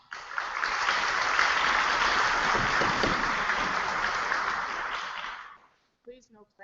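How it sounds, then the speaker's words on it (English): Loud, sustained applause from a sizable crowd at a school board meeting that swells, holds for several seconds, then fades out, followed by a brief voice. "Please no clapping between comments."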